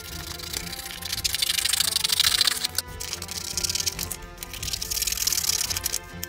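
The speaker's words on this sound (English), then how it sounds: "we need to cut them out carefully" Scissors cutting pictures out of a paper activity book: continuous crisp snipping and rustling of paper close by, with brief pauses between cuts.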